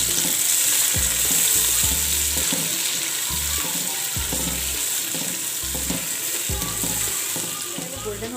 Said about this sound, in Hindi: मैंने जो है वो घी शामिल कर दिया है। अब मैं इसमें प्याज शामिल करूँगी।